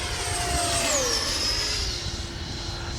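Freewing A-6 Intruder RC jet making a full-speed pass down a runway, a loud continuous whining roar with a falling pitch as it goes by.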